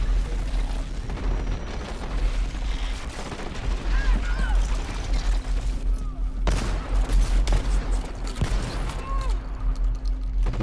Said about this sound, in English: I'm just gonna put random shots down